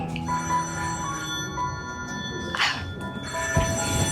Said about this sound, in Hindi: स्कूल की भी घंटी बज गई.